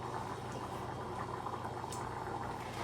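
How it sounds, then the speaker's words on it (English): Rice boils in a pot of water on a stovetop burner, giving a close, steady bubbling and simmering hiss with no speech over it. "That looks like it's genuinely boiling"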